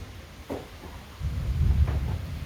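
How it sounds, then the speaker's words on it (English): Low thunder rumbles from an approaching bad storm. A faint thud comes first, then a deep rolling rumble swells and holds to the end, heard alone without talk. "there's a bad storm coming up, so I got to pull back in the garage"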